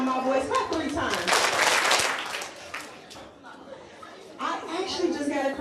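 Poetry slam audience claps together in a few sharp unison bursts, followed by a lull and another burst of clapping, with crowd chatter and a voice around it.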